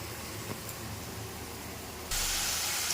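Banana flower dropped into a hot pan with potatoes, a low steady hiss that suddenly jumps into a loud, bright sizzle partway through and then holds, close up with no voices.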